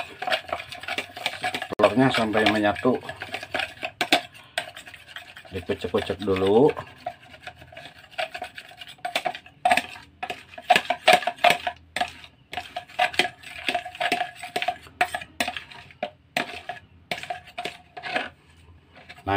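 Rapid clinking of a utensil against a bowl as eggs are stirred and mashed into catfish bait, in bursts with pauses, while someone talks in between.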